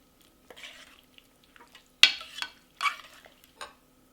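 A spoon stirring beans into a frying North Indian chole rajma curry in a pan, with scattered scrapes and clinks, a couple of louder stirring scrapes over faint sizzling, no voices.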